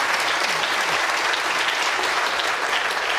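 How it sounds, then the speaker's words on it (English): A studio audience bursts into dense, continuous applause for a volunteer called Zavi, a loud steady roar of many hands throughout with no gaps. "Big round of applause for Zavi."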